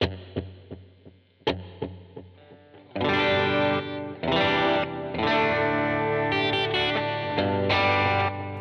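A few single electric guitar notes ring out, then strummed chords swell with tap-tempo delay repeats, set to the song's tempo, trailing behind each one.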